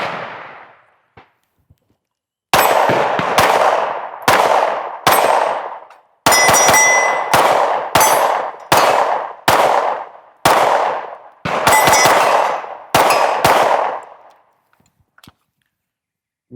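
Shots from a Sig Sauer P320 XCARRY Coyote pistol striking steel targets outdoors, a series of about a dozen loud sharp reports with ringing metallic clangs, spaced roughly a second apart, then quiet.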